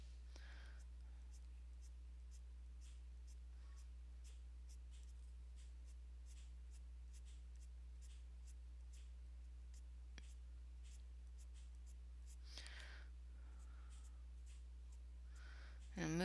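Coloured pencil flicks across paper in soft, quick strokes that repeat in a steady rhythm, very faint and close over a low background hum.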